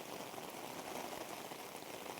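Steady, dense rain falls continuously on the Kudremukh mountain route, a close, even hiss of drops with no voices over it.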